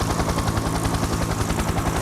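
A helicopter flying close by, its rotor producing a loud, rapid, steady chopping throb throughout, with no voices.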